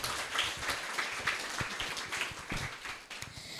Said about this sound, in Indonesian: Tepuk tangan dulu buat Mbak Naila.